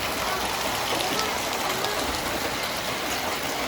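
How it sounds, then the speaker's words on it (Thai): Heavy rain pouring down during a days-long storm over a flooding home and parking area, a dense, steady roar of falling water, loud and unbroken throughout. "ฝนตกหนักพี่น้อง"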